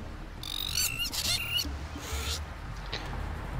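Colourful birds call in the video game Risen 3: Titan Lords, a string of bright chirping and trilling calls over a steady low ambient background, fairly close and clear.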